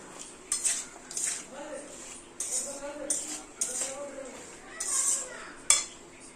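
Vegetables being mixed by hand with turmeric, spices and mustard oil in a bowl, giving soft squelching and repeated clinks of utensils against the dish, with speech in between.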